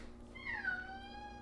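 A house cat gives a single drawn-out meow with a rising then falling pitch, fairly close and clear over a steady low background hum, with no talking.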